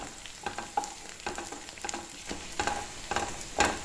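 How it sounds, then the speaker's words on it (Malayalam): Shallots and curry leaves sauté in hot oil with a soft, steady sizzle, broken by repeated clinks and scrapes of stirring at a close, quiet level. "ഇപ്പം എന്താ നമ്മുടെ ചെറിയുള്ളി അത്യാവശ്യം നന്നായിട്ട് വഴന്ന് വന്നിട്ടുണ്ട്"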